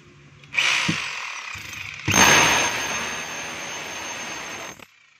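A DeWalt D25032 rotary hammer with a weak hammer action and a loose spindle runs in hammer mode, one short whirring burst and then a longer loud grinding run that ends abruptly, recorded close with no talk.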